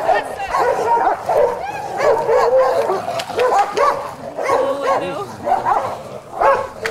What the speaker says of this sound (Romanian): S-au bătut ca niște pitbull.